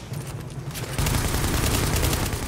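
Rapid gunfire from the co-op shooter The Division bursts into a dense, loud, continuous volley after a brief quieter start, with no talking over it.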